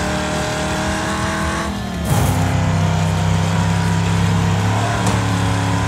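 Car engine held at full throttle in the Wreckfest racing game, a loud, steady roar with a brief shift-like dip near two seconds before the drone resumes, engine noise dominating with no talk.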